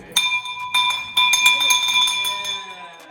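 A handbell rung in a real estate wholesaling office gives bright, sustained metallic ringing with several strikes in a row. Its tones linger over a busy room where people talk and cheer.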